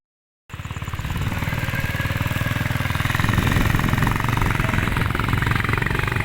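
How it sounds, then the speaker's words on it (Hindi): A motorbike engine starts up and runs in a loud, rapid, steady putter while riding, with strong wind rush against the microphone and no voices. "तो हम लोग बाइक पे जा रहे हैं"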